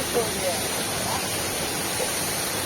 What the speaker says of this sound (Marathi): पाहू शकता तुम्ही धबधब्याकडे